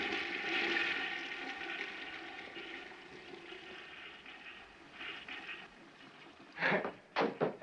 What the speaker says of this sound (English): Gold leaf flush toilet.